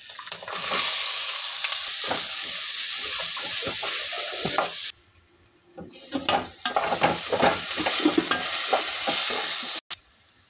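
Onions fry in hot oil with cumin for a paneer curry, making a loud, close sizzle with stirring scrapes. It drops away briefly midway, then returns strongly.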